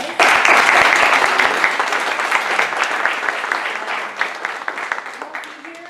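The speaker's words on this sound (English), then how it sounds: "if we could all just give them a warm round of applause" A room full of people claps warmly for speakers after a talk on health, community and food sovereignty, the applause starting strong with a few sharp nearby claps, then tapering as individual claps stand out toward the end.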